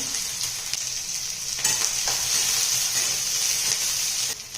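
Finely chopped onion fries in hot oil with green chilli and crackled cumin seeds for a ridge gourd curry, a steady, dense close-up sizzle with a few faint scrapes and no voices.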